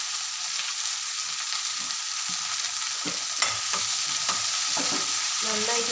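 Beans with salt and chilli powder stirred in a hot pan, a continuous bright sizzle with soft scraping and intermittent spoon knocks, close by.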